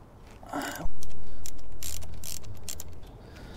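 A ratchet wrench clicks steadily on a 10mm bolt at the battery of a barn-find Harley-Davidson Sportster 1200, a close, rapid series of metallic ratcheting ticks with a brief rustle before it.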